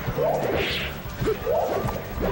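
Peach's forward smash attacks land in a Super Smash Bros. Melee doubles match, giving repeated whooshing swings and smacking hits at a steady pace, loud and close, with no talk over them.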